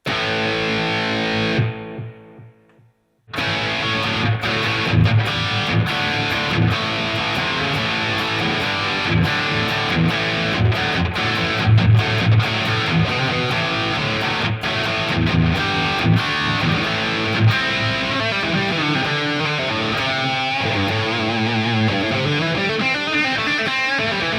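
An electric guitar plays one preset tone through a Sonicake Pocket Master, recorded direct to a laptop. It sounds distorted and driven, with sustained strummed chords and single notes, and starts after a short silent gap.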